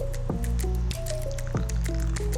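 Coffee from a siphon brewer, a natural Robusta from Mabini, Philippines, being poured into a cup: close liquid gurgles and drips in a short, uneven stream.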